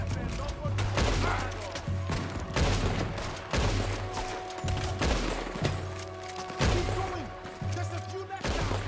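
Gunshots in the video game Red Dead Redemption 2 crack out again and again, roughly one every half second to second, loud and sharp over a low humming game score.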